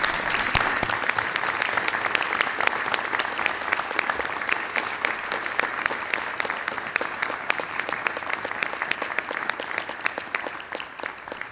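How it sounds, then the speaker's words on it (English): Audience applause fills a school media center dedication ceremony, a dense, steady wash of many hands clapping close and loud for the full length without pause. "I ask that you please join in with me with a round of applause"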